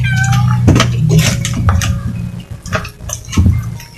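A cat meows a few times over a low background hum, with light clattering of dishes nearby.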